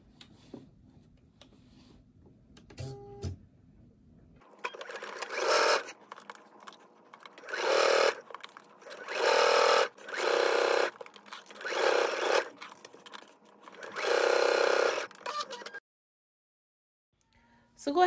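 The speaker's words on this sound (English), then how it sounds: "So go ahead and stitch it all the way." A sewing machine stitches in a series of short bursts, about six runs separated by pauses, close and moderately loud, preceded by quieter handling clicks.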